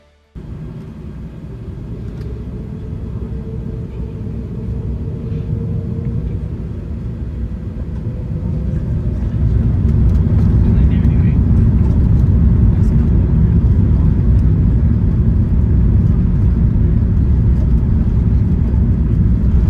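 Qatar Airways Airbus A380 takeoff heard from the cabin: a steady low engine rumble that swells and grows louder partway through, then holds a constant roar to the end, with no talk over it.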